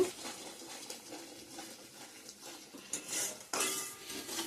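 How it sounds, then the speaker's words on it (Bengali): Cumin and coriander powder stirred and sautéed in a pan for a Bengali fish curry, with soft scraping and clinking of a utensil against metal, quiet and close, ending in a couple of louder scrapes. "জিরার গুঁড়া ভালো করে কষিয়ে নিব"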